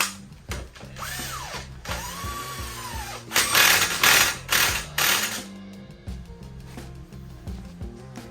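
A hand ratchet clicks rapidly as it tightens the axle nut on a Mk6 VW GTI during a coilover install, loud, close bursts of mechanical clicking and clattering with no talk.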